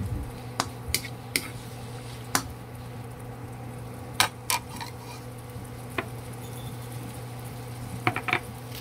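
Ingredients sautéing in a pan for Filipino chicken sopas, with a steady low sizzle broken by scattered sharp clicks and ticks of a utensil against the pan, close and moderate in level with no talk.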